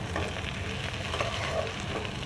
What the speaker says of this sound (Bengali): এঁচোড়টাকে আমি 3-4 চামচ সর্ষে তেলেতে এঁচোড়টাকে দিয়ে দিয়েছি।